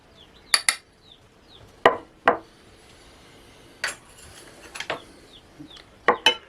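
A utensil stirs flour and baking powder in a bowl, giving sharp clinking taps against the bowl in small irregular clusters, close and distinct over near silence.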